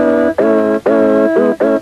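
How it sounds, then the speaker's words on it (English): A sampling keyboard plays back a sampled human voice as sustained pitched vocal tones, three or four held notes with brief gaps between them, loud and close with no live talking. "What you hear is my voice digitally encoded into bits and bytes and stored inside"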